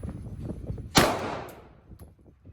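A single sharp Glock 17 9mm pistol shot fired on a shooting range, loud and close, with a long decaying echo trailing off over about a second.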